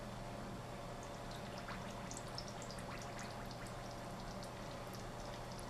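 A cup of water is poured into a pan over diced fresh ginger, a soft, continuous splashing and trickling pour that stays fairly quiet and steady throughout, with no talking.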